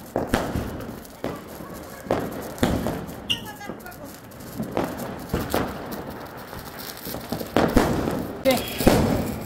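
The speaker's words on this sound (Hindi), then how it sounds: "ये है बटरफ्लाई पटाखा।" A butterfly firecracker pops and crackles at a Diwali celebration in a run of sharp bangs that repeat through the clip, fairly close, with people talking and calling out alongside.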